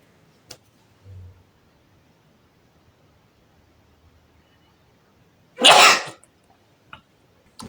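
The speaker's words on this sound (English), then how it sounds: "Here's the sneeze is coming." A single sharp sneeze bursts out close and loud after a few quiet seconds, followed by a faint click or two.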